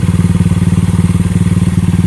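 A motorcycle engine idling close up through an aftermarket R9 Valencia exhaust, giving a loud, steady, rapid low thumping pulse with no talking.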